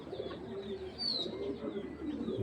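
Domestic pigeons kept for sale, including a khaki hen, coo in low, soft, repeated murmurs over a steady background hum for about two and a half seconds, with no one speaking.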